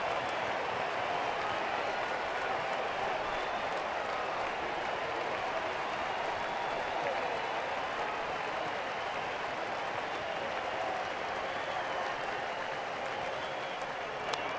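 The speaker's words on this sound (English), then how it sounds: "This Fenway crowd will stand as one with 2 outs in the 9th." A Fenway Park baseball crowd in a playoff game cheers and claps with two outs in the ninth, a sustained wash of applause and crowd roar, moderately distant, with an announcer's voice faintly under it.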